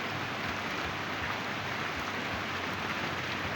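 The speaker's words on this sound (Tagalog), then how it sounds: "Dito sa amin, grabe yung ulan guys." Dense, constant hiss of heavy rain pouring down in Zamboanga City, a steady broadband wash with no pauses.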